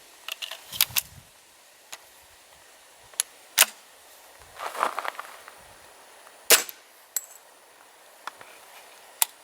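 A pistol fires a very light squib load of 7/10 grain that still cycles the slide, giving a few sharp, quiet cracks and clicks with some mechanical rattling between them, heard fairly close in a quiet room.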